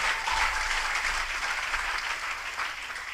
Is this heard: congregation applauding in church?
yes